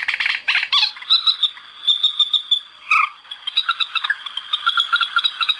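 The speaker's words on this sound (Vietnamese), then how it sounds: "toàn tiếng chim đêm thôi. Đấy, các bác nghe âm thanh của nó nhá." Night bird calls play from a Q92 remote-controlled bird-trapping speaker, loud and close, with rapid repeated chirping and croaking pulses running continuously, no talk.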